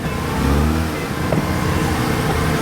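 A Mazda RX7 rotary engine runs nearby, a loud, steady, throaty drone with slight revving swells.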